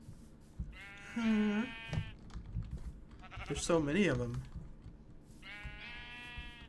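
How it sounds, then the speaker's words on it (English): Sheep bleating in the Minecraft video game, several wavering bleats close by with one in the middle, while someone talks over them. "Mr. and Mrs. Sheep, how are you guys doing?"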